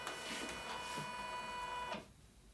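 An embroidery sewing machine stitches a design onto vinyl with a steady, quiet mechanical whir and faint tonal hum, running continuously before stopping abruptly near the end.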